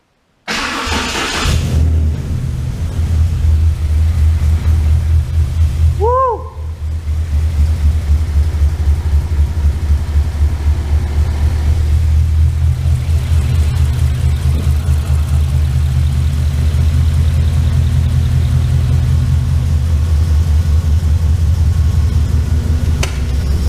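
A Ford Coyote V8 swapped into a 1989 Ford Ranger starts for the first time: starter cranking, a brief chirp-like squeal, then the engine catches and settles into a loud, steady, close idle with no talk.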